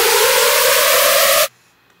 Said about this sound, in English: There you have it, that's the screech.